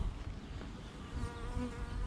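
A dense, steady hum of many honeybees buzzing together at an apiary, continuous and droning with no talking over it.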